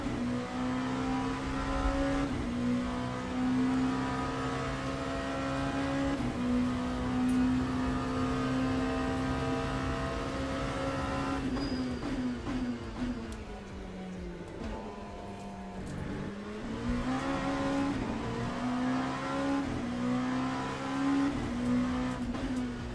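A race car engine in the sim racing game Le Mans Ultimate drones and revs steadily. The pitch dips and climbs as the driver works brake and throttle together to warm the tyres.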